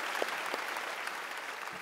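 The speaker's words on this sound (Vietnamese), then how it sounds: "Một tràng pháo tay chúc hai bạn." A studio audience at a TV game show applauds, steady, fairly faint clapping from many hands that continues for the whole short stretch without talk.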